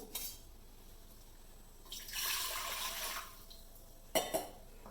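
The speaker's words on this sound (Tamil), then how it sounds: "ஃபஸ்ட்டு தண்ணி ஊற்றணும்" Water splashes and streams into a metal pressure cooker for about a second and a half, with brief clinks of the cooker before and after.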